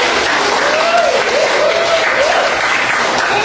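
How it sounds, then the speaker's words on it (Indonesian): Applause from a class in an Indonesian lecture session, loud, close and continuous for a few seconds, with a voice audible over the clapping. "Kita berikan tepuk tangan."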